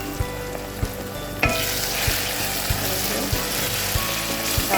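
Food frying in a pan gives a loud, dense sizzle that swells after a moment, with a few soft knocks of a spoon against the pan.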